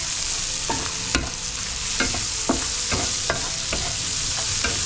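Onion and garlic sautéing in a pan for caldereta, with a steady broadband sizzle and regular sharp utensil scrapes and clicks about once a second as the mixture is stirred.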